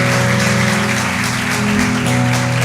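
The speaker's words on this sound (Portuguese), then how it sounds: "Você pode aplaudir Jesus no seu lugar por cada família" Church congregation applauding during a sermon, a continuous, even roar of clapping filling the room, steady and loud from start to finish.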